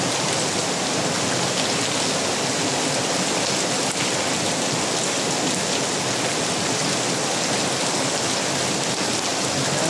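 Heavy rain pours steadily and loudly, a dense unbroken hiss of drops drumming on surfaces with no voices over it.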